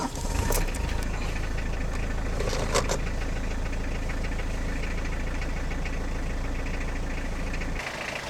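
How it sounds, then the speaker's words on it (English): A 1997 Citroen Xantia diesel engine runs at a steady, loud idle with a deep, rough rumble, close by and alone, until it cuts off near the end. "it's generally a good idea to wait a few seconds after the glow plug light has gone out before you crank over."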